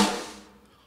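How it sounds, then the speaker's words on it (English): A single sampled snare drum hit cracks sharply and decays quickly with a short bright tail, heard alone. "layer a beautiful snare sound like this"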